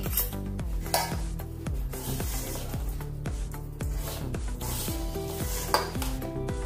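A spoon mixes suji rava with ghee in a pan, giving steady rhythmic scraping and gritty rubbing against the metal, close and clear over background music.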